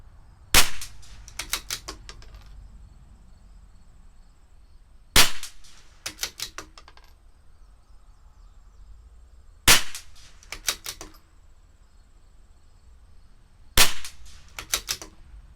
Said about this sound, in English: now let's shoot 5-shot groups, and the last group will be a 10-shot group